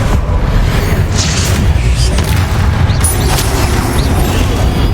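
In Hogwarts Legacy, a Confringo spell bursts with a deep boom amid dense, continuous battle rumble and crackling magical impacts, the clash sustained at high volume throughout.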